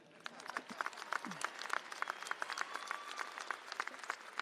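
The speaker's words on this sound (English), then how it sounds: "That's worthy of applause." Commencement ceremony crowd applauding, a dense patter of many hands clapping at a distance, fairly faint and steady throughout.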